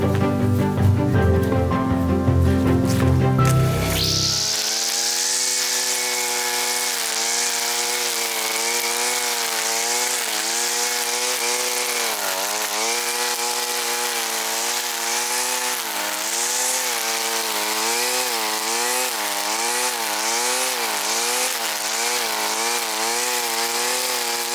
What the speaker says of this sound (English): I'll cut them up and store them for firewood